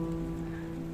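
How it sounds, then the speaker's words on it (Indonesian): Heavy rain falls steadily on a slippery mountain trail strewn with roots on Mount Lawu, a continuous close hiss under a low steady hum, with no talk. "ditambah hujan lebat, licin"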